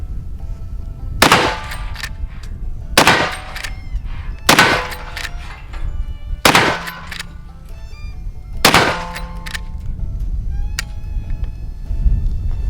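Five heavy booming shots from a Rossi R95 lever-action rifle in .45-70 with a 20-inch barrel, fired at a steel target, spaced roughly two seconds apart outdoors, with a faint insect-like buzz in between.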